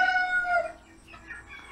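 A chicken gives a drawn-out, high clucking call up close, fading into quieter murmuring clucks.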